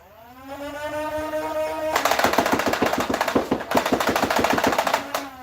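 A Nerf N Series Sprinter blaster fires a full magazine in a rapid burst of loud, evenly spaced mechanical shots lasting several seconds, preceded by a steady motor whine as the flywheels spin up.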